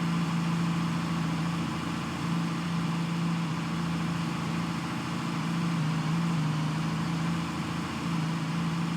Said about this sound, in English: The engine's making funny noise.